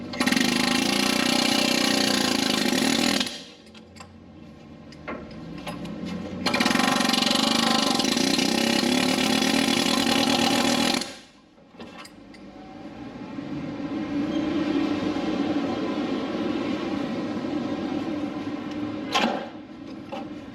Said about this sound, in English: take my air hammer with a flat bit, and I'm going to try to wedge it on the bolt head here